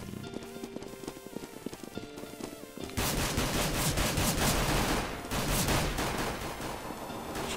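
Rapid gunfire in the competitive shooter CS:GO bursts out loud and dense from about three seconds in, following quieter game ambience and footsteps, with shots continuing in close, overlapping volleys to the end.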